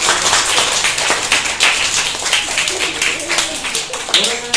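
A crowd claps steadily in welcome for Vira Saheb, a guest at a Grade 3 school event, the applause dense and continuous, with voices talking and tonal chatter rising over it toward the end.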